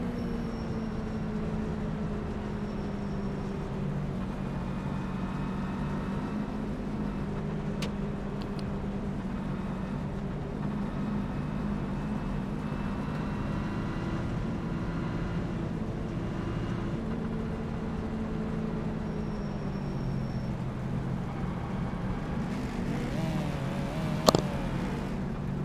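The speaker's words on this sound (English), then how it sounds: "Revving up the engine." Race car engines in a racing video game at Texas Motor Speedway hold a steady, droning roar throughout, with a layered continuous whine and no talking.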